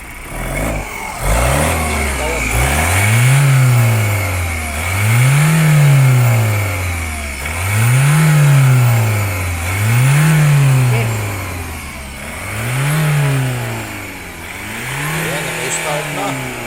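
A 2019 Ford Ranger diesel engine with new injectors after a low-power injector fault starts and revs repeatedly, loud and close, each rev rising and falling in a regular rhythm over a rumbling idle, with voices talking nearby.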